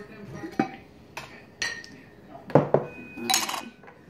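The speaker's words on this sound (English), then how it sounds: "I'm just gonna take the lids off" Glass salad jars having their lids taken off, several separate clinks and scraping knocks of glass and metal, close and fairly quiet, with a faint voice under them.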